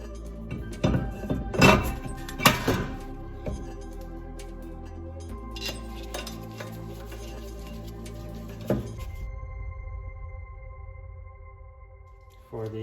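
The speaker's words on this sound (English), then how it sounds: "So let's go ahead and install the brake rotor." Metal parts clink and clank as a brake rotor is fitted onto an Acura NSX hub during a wheel bearing replacement, with a cluster of sharp close knocks early, then quieter handling noises and a low hum.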